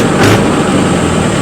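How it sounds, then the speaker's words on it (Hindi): A Mahindra Yuvo Tech+ 585 DI 50 hp tractor engine runs loud and close with a steady, deep, heavy drone and no talk over it. "और आवाज़ भी आप लोग ट्रैक्टर की सुन लो।"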